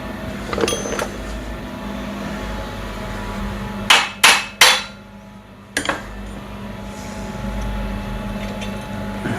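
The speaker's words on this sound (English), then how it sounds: "Hammer." Several sharp metallic hammer strikes on seized brake parts of a Honda TRX350D ATV ring out, three in quick succession and another a moment later, over a low mechanical hum.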